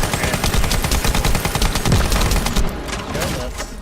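Rapid overlapping gunfire from four players shooting close together in the online shooter The First Descendant, a loud, dense barrage of bursts with no pause, easing slightly near the end.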